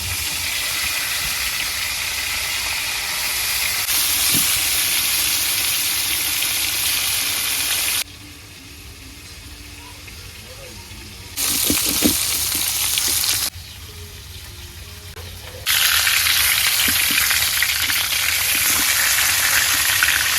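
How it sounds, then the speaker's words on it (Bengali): Turmeric-coated sea poa fish frying in hot oil gives a loud, steady sizzle that drops away twice, once for a long stretch and once briefly, then returns at full strength. There is no talking. "মাছটা হলুদ মেখেলাম এখন তেলটা গরম হয়ে গেছে মাছটা দিয়ে দেই"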